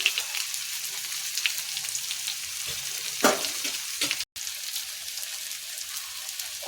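Cabbage curry being stirred in a hot pan after Kashmiri chili powder and a little black pepper go in, giving a steady close sizzle and fry with a few scraping stir strokes and one brief dropout.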